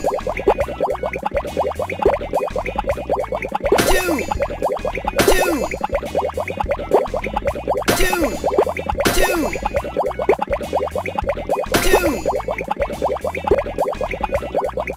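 Bright cartoonish bubble-popping boings land every couple of seconds over a busy, steady music background in a children's preschool math game, each a quick springy burst.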